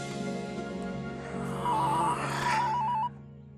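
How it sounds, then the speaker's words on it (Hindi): A mobile phone rings in a domestic comedy scene, a faint warbling electronic ringtone rising in two short bursts partway through over soft background music. "ये देख मेरे हाथ में फोन बज रहा है।"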